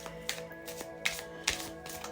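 Tarot cards being shuffled by hand, soft rhythmic riffling taps and flicks repeating several times over a low hum, close and fairly quiet.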